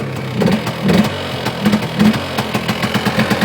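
A Polaris Xplorer 400 two-stroke ATV engine, just started near a garage after sitting for two years, runs close by with an uneven, pulsing putter and repeated revving surges.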